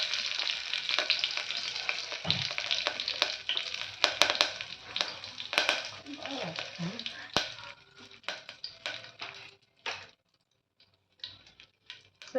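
Fennel seeds and curry leaves sizzling in hot oil for a vegetable donne biryani, a loud crackling hiss with popping spatters up close, fading to quiet near the end.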